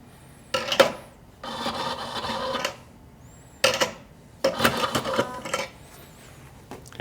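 A Fellow Opus coffee grinder grinds beans on a coarse setting in two rough bursts, each with a short whir then a longer gritty run, close and loud between quiet gaps.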